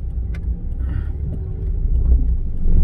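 A car engine rumbles low and steady while driving, the pitch sagging unevenly as if close to stalling, then rising again toward the end, with no talk over it.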